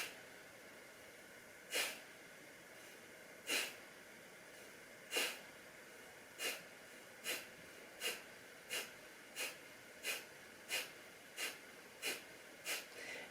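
Forceful nasal exhalations from kapalabhati yoga breathing come as sharp hissing puffs, first slowly spaced and then in a quick, even series, close and clear over a quiet background.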